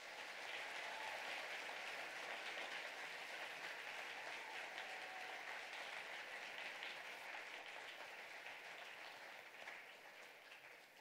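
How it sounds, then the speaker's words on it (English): Sustained applause from an audience at a Veterans Day program honoring military veterans, steady and fairly distant, holding at an even level for about eleven seconds before easing slightly at the end. "Let's give all of our vets a round of applause."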